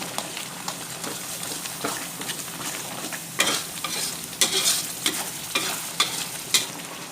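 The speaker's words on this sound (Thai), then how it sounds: "เดือดปุดปุดกะทิแตกมันทีแล้วนะครับ" Coconut milk bubbles in a pot of tilapia curry with betel-leaf greens, its steady sizzle broken by repeated stirring clatters and scrapes, close and fairly loud with no talk.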